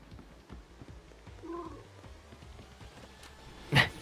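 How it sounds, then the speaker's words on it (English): A house cat gives a soft chirp while being stroked, one brief tonal trill in a quiet room, followed later by a sharp louder squeak. "I hear a chirpy cat."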